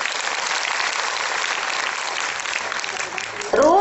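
An audience at a spiritual gathering in Kanpur claps together, a dense sustained applause filling the hall, loud and even, before it breaks off near the end as a voice cuts in.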